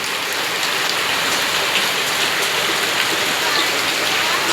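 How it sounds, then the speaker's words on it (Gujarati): Steady evening monsoon rain pours down in Gujarat, a dense, even hiss of drops on wet surfaces and pooled water, constant and close with no break. "સરસ એવો વરસાદ ચાલુ છે"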